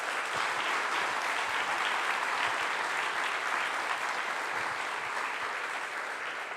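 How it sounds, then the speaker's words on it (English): At the HIPS Symposium 2024, a scientific meeting audience gives a sustained round of applause for the organizers, a dense, even wash of clapping from many people, moderately distant. "I think they deserve another round of applause."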